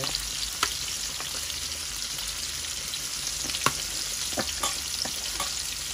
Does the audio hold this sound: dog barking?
no